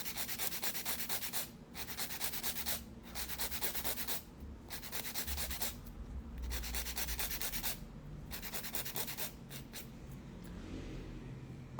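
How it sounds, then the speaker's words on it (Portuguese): A plastic piece being sanded with sandpaper by hand, steady close rasping strokes in a continuous back-and-forth rhythm with short pauses between passes, no talk. "encostou completamente, eu já paro de lixar."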